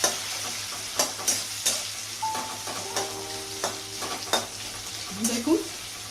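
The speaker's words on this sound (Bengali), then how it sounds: "দিয়ে এখন গ্রেট করা পেঁয়াজ দিচ্ছি, পেঁয়াজগুলো দিয়ে দিচ্ছি। দিয়ে এইভাবে নাড়াচাড়া করে নিচ্ছি।" Grated onion stirred and fried in a pan with whole cinnamon: a steady close sizzle broken by regular spoon scrapes and taps against the pan, with no talk.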